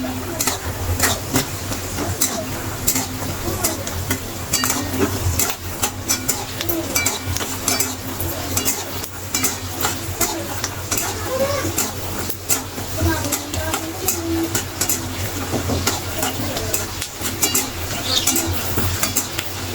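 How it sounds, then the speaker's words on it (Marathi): Peanuts roast over a medium gas flame in a pan for kanda poha, stirred until brownish, giving a continuous scraping and rattling with frequent metallic clinks of the spoon against the pan, steady and close throughout. "मीडियम गॅसवरती शेंगदाणे भाजायचे आहेत ब्राउनिश होईपर्यंत"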